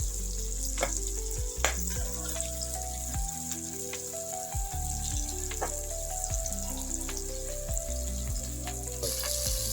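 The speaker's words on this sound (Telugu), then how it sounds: "ఇది ఒక 2 నిమిషాలు ఫ్రై చేద్దాం." Moong dal khichdi ingredients fry in a hot pan, a steady close sizzle with spattering crackles and occasional stirring scrapes, heard alone throughout.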